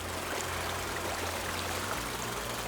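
A clear, shallow creek flows steadily in a sunny wild setting, a constant dense rushing and trickling wash that stays even and fairly soft throughout, with no voices.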